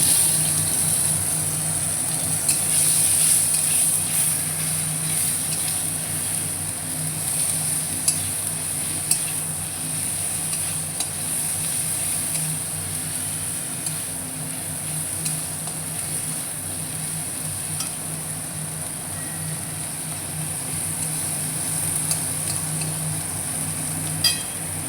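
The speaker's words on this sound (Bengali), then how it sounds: "কেটে রাখা টমেটোটা দিয়ে দেবো।" Chopped tomato added to spices frying in a pan for a kochu and potato masala, a steady close sizzle that runs evenly throughout with faint background hum and no talking.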